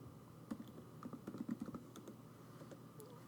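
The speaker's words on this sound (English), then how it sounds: "Let me type it in real quick" Quick bursts of typing on a computer keyboard, clustered keystrokes clicking close and quiet, with short pauses between runs.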